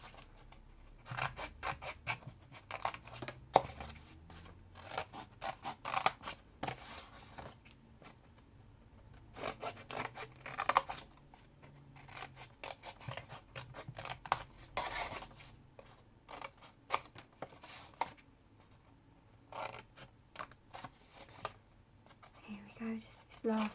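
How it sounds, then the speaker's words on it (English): Scissors cut through cardstock along a score line, giving close, repeated short snips and rustles in irregular bursts, with quiet speech in between. "Just this last corner off, and cut up this score line here."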